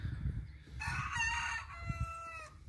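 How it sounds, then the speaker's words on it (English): A Sebright bantam rooster's crow rings out once, a thin, high, drawn-out call over steady low outdoor rumble. "see if I can get the Seabright on on camera again, crowing."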